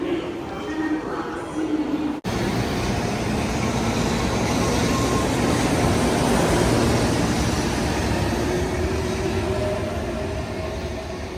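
A train rumbles loudly and steadily through a busy Japanese railway station during a holiday rush, a continuous heavy roar with a sharp break near the start, while a person talks at the beginning.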